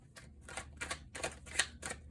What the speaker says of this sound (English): I'm shuffling subconsciously without thinking